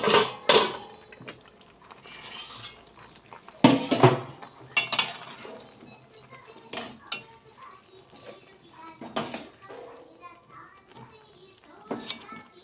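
Metal lid lifted off a pot of simmering potatoes and dried peas for ghugni, giving a few sharp clanks and scrapes amid quieter kitchen rattles.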